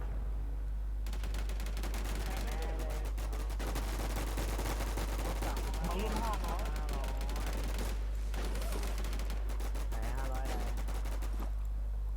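Gunfire in the online shooter WarZ: dense, loud automatic bursts and single shots crackle almost continuously over a steady low hum, with someone talking over the action.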